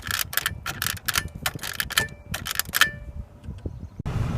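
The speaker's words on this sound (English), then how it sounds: "listen to the sound of the plastic." Crisp plastic clicks and snaps from a car switch being worked, several in quick succession, close up, followed by a brief rustle at the end.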